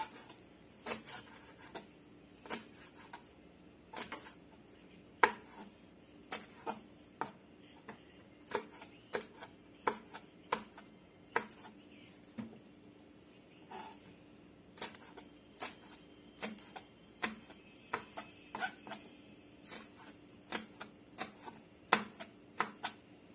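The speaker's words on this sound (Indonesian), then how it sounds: "sekarang kita mulai mau potong cabenya dulu ya, biar itu nggak kepanjangan banget" A knife chops chili peppers on a board while making spicy squid sambal: a steady run of light, crisp taps, evenly spaced and fairly quiet, continuing alone for over twenty seconds.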